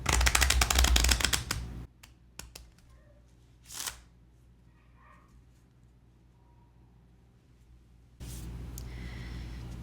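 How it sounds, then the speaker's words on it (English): Small linen-finish tarot cards are shuffled in a quick riffling burst at the start, then a brief rustle midway and more soft shuffling at the end, close and crisp. "because it's a linen, it shuffles really nice."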